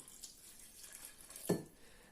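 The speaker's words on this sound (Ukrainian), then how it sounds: "Хочу ж при вас налити воду." Water running from a kitchen tap while breakfast is prepared, a faint steady trickle with one brief louder splash near the end.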